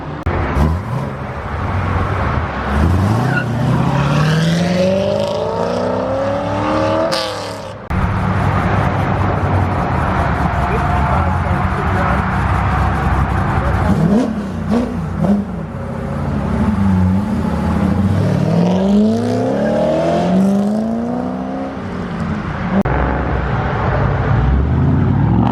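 Cars slide sideways as they leave the Twin Peaks car show, with loud engines revving hard in repeated rising and falling sweeps over a constant roar of traffic.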